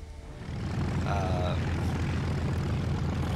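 Twin propeller engines of a Tupolev ANT-40/SB 2M bomber in the War Thunder video game give a steady, loud, continuous drone that swells slightly after the first half second and then holds even throughout.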